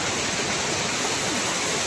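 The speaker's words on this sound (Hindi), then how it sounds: "आज हम आपको दिखाते हैं हमारे एरिया का एक छोटा सा झरना" A small waterfall in a hillside pasture area gives off a steady, dense rushing roar of falling water, close and continuous with no pauses and no voices.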